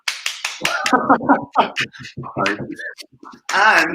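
A few sharp hand claps from a small crowd at a film Q&A, brief percussive bursts at the start and end, mixed in with a person talking close by.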